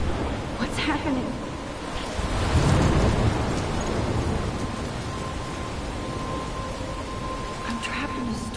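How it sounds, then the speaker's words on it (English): A storm in the video game Life is Strange, a dense, steady roar of rain and wind that swells with a deeper rumble around the third second, then holds loud and unbroken to the end. "I'm trapped in a storm."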